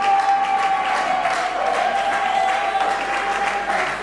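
An audience breaks into sustained applause at an award ceremony as a recipient is called up, dense clapping with a few cheers over a steady held tone.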